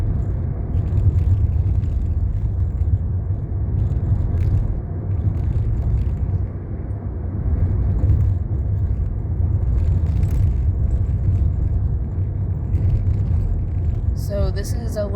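Car interior road drive on the way to Potts Preserve, with a steady low rumble and tire roar continuing throughout and a faint voice under the noise.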